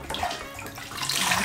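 Water poured over a child's head during a bath, a soft, continuous splashing and trickle that rises slightly toward the end, fairly quiet and with no talk.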